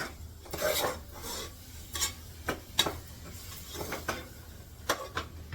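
Jaggery is stirred and sautéed in a pan for a sweet lentil filling, with quiet irregular scraping strokes of a spoon against the metal and a faint background hiss, close and without voices.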